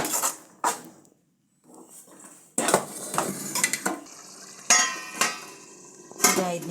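Boiled cowpeas (alasande) go into a pan of dhaba-style masala and get stirred, with close clattering knocks and scrapes of a spoon against the metal pan in uneven bursts and a brief quiet gap.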